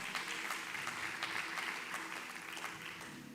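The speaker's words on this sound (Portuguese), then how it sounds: "Pode aplaudir ao Senhor mais forte." Church congregation applause during a sermon, a continuous rustle of many hands clapping, fairly soft and distant, steady throughout with no voice over it.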